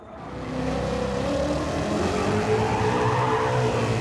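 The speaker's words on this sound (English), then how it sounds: "So a lot of wheel spin" Wheel spin and tire squeal from a car in a racing video game, a sustained skidding screech with engine noise that swells in over the first half second and holds steady and loud throughout, with no talking.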